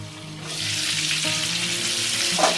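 Pointed gourd (potol) pieces frying gently in a pan over very low gas, a soft steady sizzle with light crackle, close and continuous, with a faint scrape of stirring near the end.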